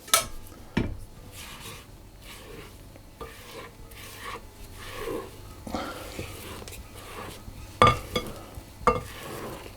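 A spatula scrapes the sides of a bowl of cake batter for a Lazy Daisy cake, giving a series of close, soft scraping strokes and a few sharper knocks against the bowl.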